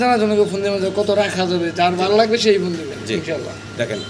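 Fancy pigeons, imported pairs offered for sale, coo in soft rolling phrases while someone talks loudly over them nearly throughout.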